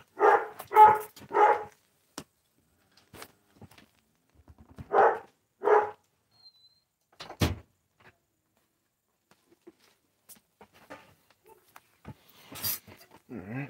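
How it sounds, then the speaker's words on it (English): Indoor dogs bark in short bursts, a quick cluster of three barks followed later by two more, moderately near, with quieter shuffling and faint sounds between. "Dogs will be dogs."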